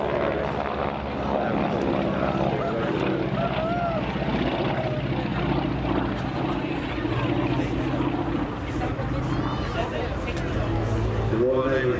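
A North American Harvard, registration G-NWHF, flies at the Ayr air show's Festival of Flight, its propeller engine giving a steady, continuous drone across the whole stretch while a commentator talks over it.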